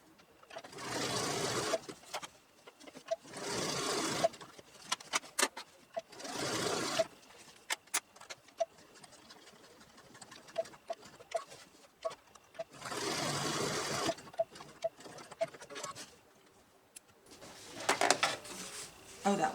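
A domestic sewing machine stitches a fabric yard flag in several bursts of rapid mechanical whirring, each lasting a couple of seconds, with quiet gaps and small handling clicks between them.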